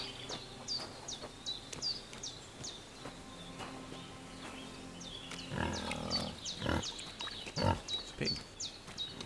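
A pig in Kingdom Come Deliverance 2 gives a cluster of low, rough grunts partway through, over quiet outdoor ambience with repeated bird chirps in the background.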